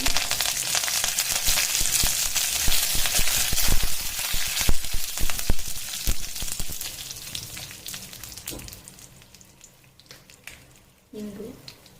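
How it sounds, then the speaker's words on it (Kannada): Curry leaves and asafoetida crackle and sizzle in hot oil over a medium flame for a South Indian tempering, loud and dense at first, then gradually dying down to a faint hiss. "ಮೀಡಿಯಮ್ ಫ್ಲೇಮಲ್ಲಿ ಇಟ್ಕೊಂಡೆ ಮಾಡಿ ಒಗ್ಗರಣೆ"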